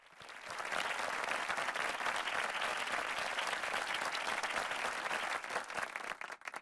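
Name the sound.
audience applause for undergraduates at awards ceremony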